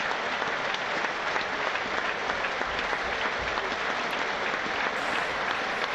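A football crowd at a Portsmouth versus Sunderland match holds a minute's round of applause, a steady, distant roar of clapping filling the stadium without break.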